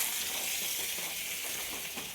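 Heavy rain pours outside on a cloudy, cold day after falling all night, a steady, fairly faint wash of hissing noise with no break and no voices.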